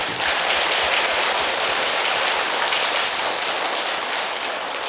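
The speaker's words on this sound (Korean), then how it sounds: "박수 한번 칩시다" A temple congregation applauds together during a Buddhist repentance prayer gathering, a dense, steady wash of clapping that fills the whole stretch at even loudness with no talk.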